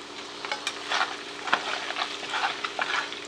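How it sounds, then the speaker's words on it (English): Macaroni and cheese being stirred in a pot, soft repeated scraping and wet shuffling strokes at a fairly quiet level over a faint steady hum. "I'm going to give it one last stir"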